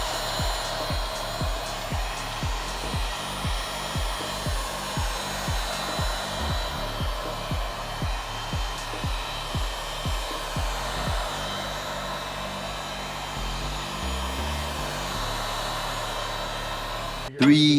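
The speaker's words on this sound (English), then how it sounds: "you can see where I'm running the iron, the actual heat gun" A heat gun blows steadily to soften the edge adhesive on a Microsoft Surface Pro 7, a continuous airy roar with a faint pulsing hum underneath, close and even, cut off abruptly at the very end.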